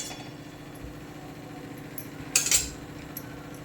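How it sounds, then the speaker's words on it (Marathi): A metal kadhai set down on a gas stove while cooking chicken biryani, a quick pair of bright metallic clinks against a quiet kitchen background hum. "कढई ठेवून घेऊ."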